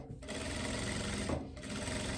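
Sewing machine stitching a seam on a loose batwing blouse, a steady, close, whirring mechanical hum with rapid needle clatter running continuously throughout, with no talk over it.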